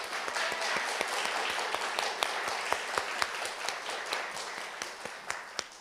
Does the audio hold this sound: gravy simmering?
no